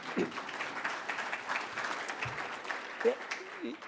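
Audience applause at an energy forum, steady moderate clapping from a crowd that carries on without a break.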